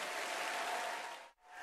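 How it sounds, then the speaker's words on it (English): Steady applause from a Grand Ole Opry audience, a dense wash of clapping that runs evenly for over a second before briefly cutting out and returning. "Y'all keep that applause going."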